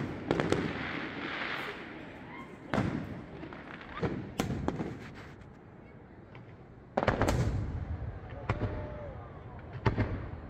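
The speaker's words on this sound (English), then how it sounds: "you can see the fireworks from the town square" Fireworks over the Thredbo ski village town square, a series of booming bursts and crackles at varying distances, some sharp and close, others duller, with crowd murmur beneath.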